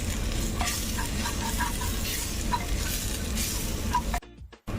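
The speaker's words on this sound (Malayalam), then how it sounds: "ഇനി ഇത് പച്ചമണം പോകുന്നത് വരെ ഒന്ന് വഴറ്റാം." Masala for Kerala mutton curry sautés in a pan with a continuous sizzle and a string of light spatula taps and scrapes, close up with no talk, ending in a short muffled knock.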